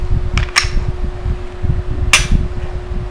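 Two or three sharp metallic clacks from a Glock 17 Gen 4 pistol slide being worked during a safety check, fairly close, over a steady low hum.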